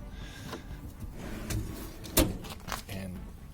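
A storage drawer in a Nissan Patrol GQ shorty slides and shuts with a sharp thud, preceded and followed by quieter rattling and clunks from the drawer system.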